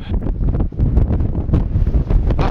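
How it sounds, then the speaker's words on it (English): Strong wind gusts on the exposed Mount Lafayette trail, buffeting the microphone in loud, rough, rumbling surges that rise and fall without pause, with no voices. "How fast do you think the wind's blowing today?"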